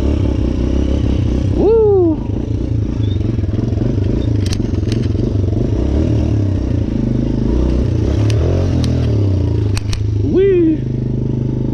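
A dirt bike engine drones loudly and steadily while riding on the beach, close to the rider, with a couple of excited whoops rising over the engine noise.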